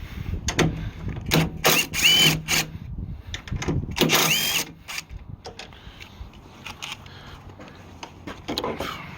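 A power tool spins out 10 mm bolts from the radiator support of a Jeep Commander in several loud close bursts, with whirring pitch sweeps and short pauses, followed by quieter clicks and handling noises.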